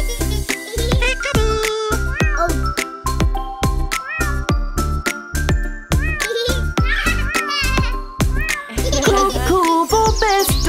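A cartoon cat meows repeatedly in rhythmic bursts over a loud children's song with music, the meows bright and close, part of a sung track rather than a real animal.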